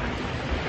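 Ocean waves at the seaside outside a cliffside resort restaurant make a steady, broad wash of surf noise throughout, with no voices over it.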